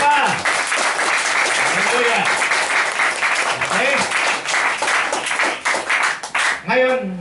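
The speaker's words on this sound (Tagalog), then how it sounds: "Isa mo nang malakas sa palakpak para sa Panginoon." A church congregation breaks into loud, sustained applause during a Filipino worship service, a dense steady wash of clapping that thins toward the end, with a voice calling out over it at intervals.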